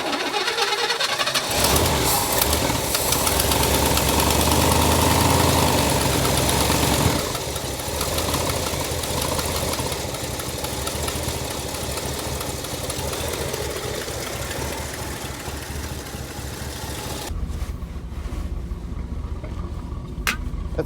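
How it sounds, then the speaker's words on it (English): An old International pickup truck engine idles steadily and loud, in gear, with a rougher burst early on before settling into an even, continuous rumble. "It's idling like a champ right now."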